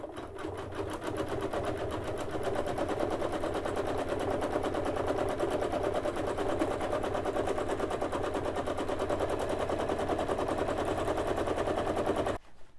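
A sewing machine does free-motion stitching on a pants leg, running in one steady, loud, rapid chatter for about twelve seconds before stopping abruptly.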